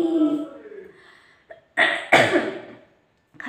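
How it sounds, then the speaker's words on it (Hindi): Two or three sharp, harsh coughs burst out close by, separated by brief pauses, after a bit of speech. "खांसी हो गया।"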